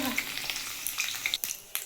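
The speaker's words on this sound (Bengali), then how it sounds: "দেখুন আমার পনিরটা আমার ভাজা হয়ে গেছে আমি এবার এটা তুলে নেবো পনিরটা" Paneer frying in a pan gives a soft, steady sizzle with light crackles and a few sharper pops, close and fairly quiet.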